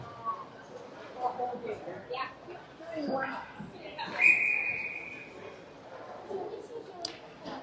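At a 16U youth ice hockey game, a referee's whistle gives one sustained shrill blast midway, heard under continuous play-by-play commentary and faint rink noise.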